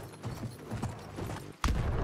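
Horse hooves clip-clop during mounted combat in the Battlefield 1 video game, a steady patter of footfalls under a dense, noisy battle mix, with a sudden loud impact near the end.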